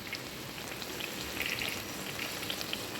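Raisins sizzle in hot ghee for sheera, making a soft continuous crackling fry with faint scattered pops, close and quiet.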